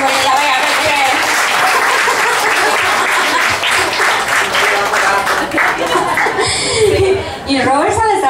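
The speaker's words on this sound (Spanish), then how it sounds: "¡Fuerte el aplauso que ella vea!" Applause and cheering from a crowd at a scholarship award ceremony, loud and continuous, with some laughter mixed in and a voice rising above the noise near the end.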